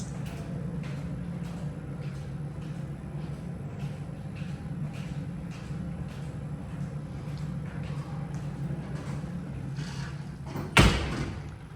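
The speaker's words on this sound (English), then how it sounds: "These doors are loud and obnoxious." Dover Impulse traction elevator doors rumble shut over a steady mechanical hum, ending in a sharp, loud thump as they close.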